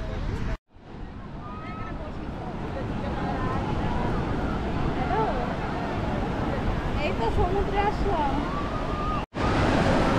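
Big ocean waves break and wash up on the beach at Puri, a steady loud roar of surf with wind buffeting the microphone, and voices talking faintly over the water.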